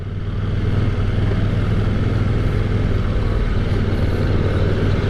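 A 2023 KTM 890 Duke R motorcycle rides steadily in second gear, its engine a continuous loud drone mixed with wind rush for the whole stretch, with no voices.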